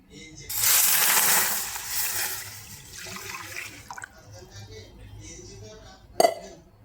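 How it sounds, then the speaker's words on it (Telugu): Half a litre of milk pours into a pot already holding ghee on a lit stove, a steady liquid rush that thins out into trickles, followed by a sharp utensil clink near the end. "ఇప్పుడు ఒక హాఫ్ లీటర్ పాలు పోస్తున్నానండి"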